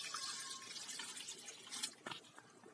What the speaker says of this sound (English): First, pour a water into the pan.